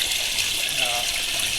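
Water pours steadily into a refurbished quarantine aquarium tank with its filter running, a continuous even rushing hiss that holds at the same level throughout.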